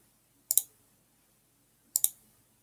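Two crisp computer mouse double-clicks while inserting a chart in Google Sheets, each a quick close pair of sharp clicks about a second and a half apart in near silence.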